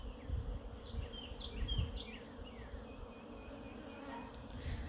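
Honey bees hum steadily inside an open hive during a colony split, a dense continuous buzz with individual bees whining past up close, no talking.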